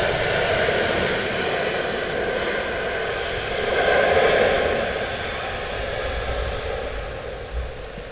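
Aircraft jet engine running at Stansted Airport, a steady broad roar that swells slightly midway, fairly loud and continuous with no voices.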